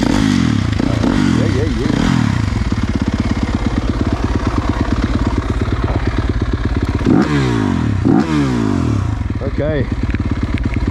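A Yamaha YZ motocross bike engine runs close by, a loud, raspy, rapidly pulsing idle with brief revs, while a few short words are spoken over it.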